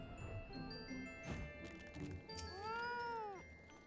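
Cat mount summoned in Final Fantasy XIV gives a drawn-out, wavering meow that rises and falls, following a few softer game clicks and thumps, heard up close with no talk.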